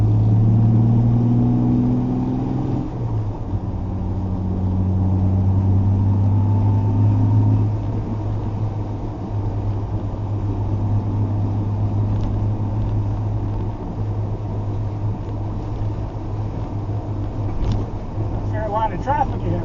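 An E-type Jaguar's engine hums steadily while driving along the Niagara Escarpment, a low continuous drone with wind and road noise, as people talk over it throughout.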